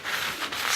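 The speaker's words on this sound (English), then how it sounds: "just real lightly sand across them" Light sandpaper rubbed at a bevel across the fret edges of a Squier P-Bass neck, a close, steady hissing scrape with a slight swell midway.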